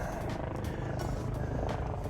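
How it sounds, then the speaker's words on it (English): A police helicopter flies overhead in Surrey, British Columbia, its rotor giving a steady low throbbing chop with periodic faint pulses, moderately distant and continuous. "There's a helicopter up there. That's actually a police helicopter."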